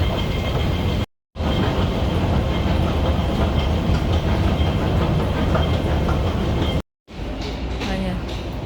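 A Hong Kong train runs on rails, a steady, loud rumbling roar with faint rhythmic clatter heard from inside the carriage, continuous apart from two brief cut-outs.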